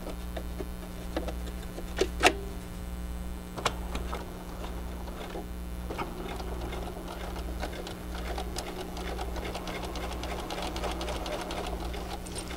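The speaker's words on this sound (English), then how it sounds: "I'm going to back stitch." A Bernina sewing machine with a 37 foot back stitches a quarter-inch seam on a lined children's garment, a steady close mechanical hum with rhythmic needle ticking and a few sharper clicks.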